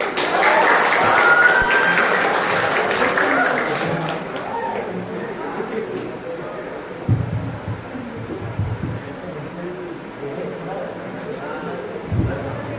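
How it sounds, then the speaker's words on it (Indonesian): An audience claps loudly at first at a high school program in Cikampek, Indonesia, then the applause gradually fades into a quieter room murmur with occasional thumps. "Tepuk tangannya mana dong?"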